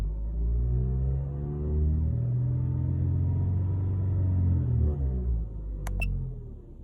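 A Vauxhall Corsa D petrol engine ticks over at idle with a steady low rumble and faint harmonic hum, with a brief sharp clicking near the end and no talking.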